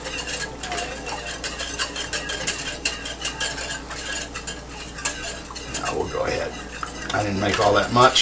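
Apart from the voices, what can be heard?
whisk stirring flour and water mixture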